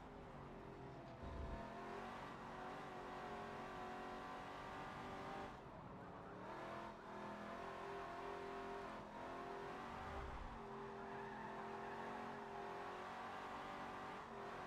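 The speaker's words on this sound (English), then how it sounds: "This thing is a killer drift car." Drift car in Forza, engine revving hard and continuously with brief tire squeals, loud and steady throughout with no talking.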